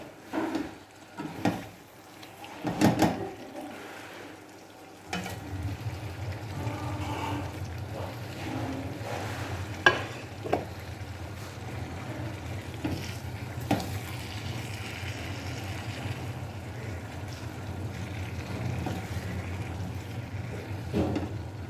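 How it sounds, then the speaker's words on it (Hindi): Fish frying in masala in a pan while being stirred, a steady sizzle with scraping stir strokes and a few sharp knocks at first, close and moderately quiet, no talking. "तकरीबन 1-2 मिनट हम इसको अच्छी तरह मसाले में भुनेंगे"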